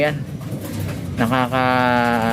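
Pigeons coo in a low, throaty, rolling call, close and fairly loud, with a steadier drawn-out coo near the end over faint background noise.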